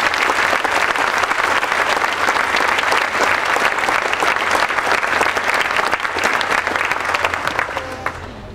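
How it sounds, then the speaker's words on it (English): Audience applause at a winter graduate commencement ceremony for doctorate, specialist and master's graduates, a dense sustained burst of clapping from a large crowd that gradually tapers off at the end. "Let's give them a round of applause."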